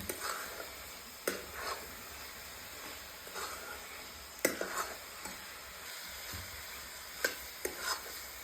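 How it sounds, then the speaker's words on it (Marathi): Coconut vadi mixture gets stirred in a pan with soft, irregular scraping and light sizzling, quiet and close, with occasional sharper knocks of the spoon and no voices. "आणि वडी बनवत असताना आपल्याला सतत ह्याला एकसारखा हलवत राहावं लागतं नाहीतर खाली चिटकते"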